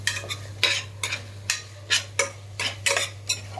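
A metal spoon stirs turmeric in a pan on a stove over a medium flame, giving rhythmic scraping strokes close up against a low steady hum.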